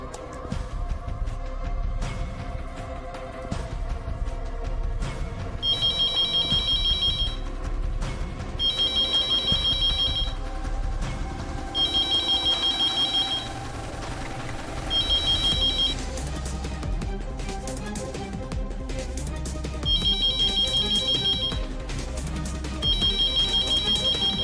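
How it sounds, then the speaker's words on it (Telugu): A home landline telephone rings loudly in a series of repeated electronic ring bursts separated by short gaps, with a soft background score running underneath and nobody speaking. "మా ఇంటి ల్యాండ్ లైన్కి కాల్ చేయండి."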